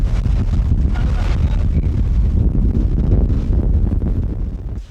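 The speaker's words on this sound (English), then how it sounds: "it's pretty windy today" Strong wind roars during a severe desert sandstorm, a dense, unbroken buffeting rush battering the microphone loudly for the whole stretch.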